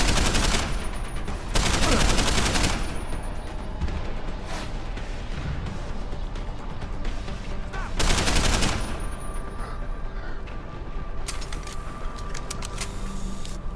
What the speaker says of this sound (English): Look how wildly I'm firing.